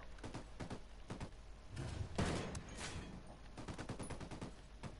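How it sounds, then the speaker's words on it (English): Gunfire in Ghost Recon Wildlands, rapid trains of shots at moderate distance with a heavier burst mid-way, steady and fairly quiet throughout. "how am I still getting shot at when I'm hunted?"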